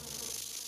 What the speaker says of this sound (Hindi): इन मच्छरों की आवाज तेज है।